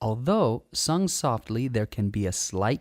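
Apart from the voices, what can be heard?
None of the usual background noises is heard.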